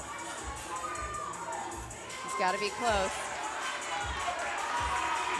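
A crowd at the Burn Boot Camp athlete games cheers and shouts for an athlete's set, a moderate roar that swells in the middle, with people talking nearby and a few thuds underneath.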